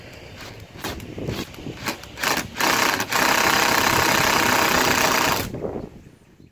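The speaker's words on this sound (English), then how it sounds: "first thing I want to do is remove the screws." Screws being removed from wooden deck boards, with a loud, close buzzing power-driver whir that starts in short bursts and then runs steadily for a few seconds before winding down, with no talk.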